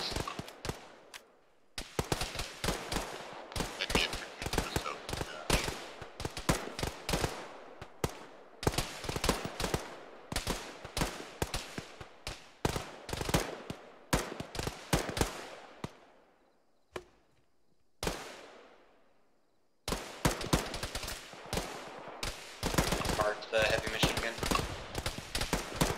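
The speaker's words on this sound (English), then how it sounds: "They have an enemy machine gun set up west across the way from us." Enemy machine gun fire in the military shooter Arma: rapid bursts of sharp shots rattle in long strings, broken by short pauses and a few seconds of near silence.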